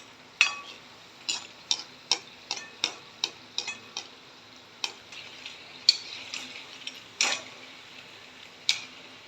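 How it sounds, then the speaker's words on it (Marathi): Vada, lentil fritters for dahi vada, fry in oil on medium heat, giving a soft sizzle under a steady run of sharp clicks and scrapes from a utensil against the pan, close and fairly quiet, with no talking. "वडे आपल्याला मध्यम आचेवर तळून घ्यायचे आहेत."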